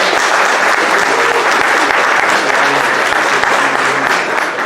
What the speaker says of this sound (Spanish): Le damos un aplauso.